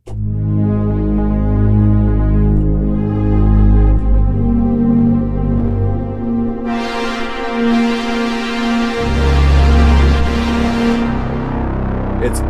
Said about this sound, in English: JP8000 from Japan sounds like this.